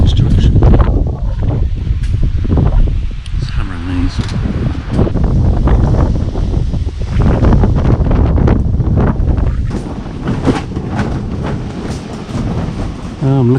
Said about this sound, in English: the wind's changed direction.